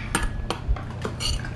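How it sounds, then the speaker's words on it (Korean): Metal cutlery clinking and scraping against dishes as an elderly man eats a meal, several quick close taps and knocks in an irregular rhythm within a quiet room. "영감님 잡수는 소리 듣기만 해도 흐뭇한 소리다."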